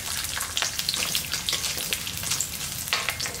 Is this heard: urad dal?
yes